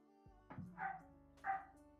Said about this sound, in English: Can you hear my landlord's dog barking?